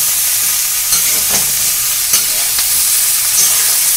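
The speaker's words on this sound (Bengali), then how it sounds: "নুনটা ভালো করে মিশিয়ে দেব" Cauliflower cooks in a pan as salt is stirred in: a loud, dense, continuous sizzle with a few soft spatula sweeps breaking through, near and without voices.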